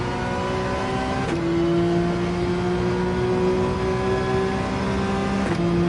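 Porsche 911 engine revving high and steady in Gran Turismo 7 at the Red Bull Ring, a loud sustained whine with two brief dips where gears shift, no voices.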